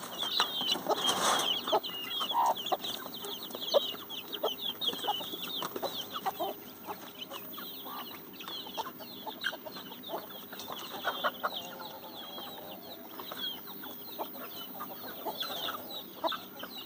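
A native-breed hen and her chicks cluck softly and intermittently in the distance in a grove, with faint peeping and scratchy outdoor background noise.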